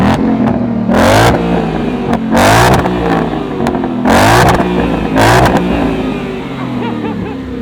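Ford Mustang Mach 1 with Tremec manual transmission, exhaust in its loudest track setting, revving in loud repeated bursts that rise and fall about five times, with a rumbling idle between them.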